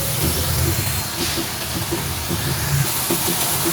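Ground coriander, cumin, turmeric and chili powder frying in hot oil for a pointed gourd dish give a steady, loud, continuous sizzling hiss with light stirring underneath.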